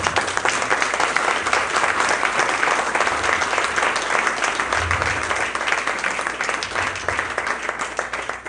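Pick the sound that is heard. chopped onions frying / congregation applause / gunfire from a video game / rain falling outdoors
congregation applause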